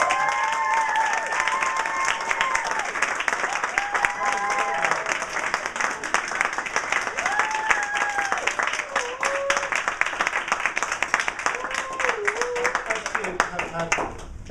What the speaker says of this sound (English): I think I'd give him a round of applause